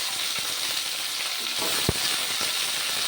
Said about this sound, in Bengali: আমি উচ্ছেগুলোকে ভেজে নেব ভালোভাবে নুন হলুদ দিয়ে।